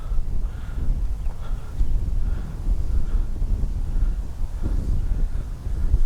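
Gusty wind buffets the microphone in low rumbling bursts, rising and falling unevenly throughout with no voices.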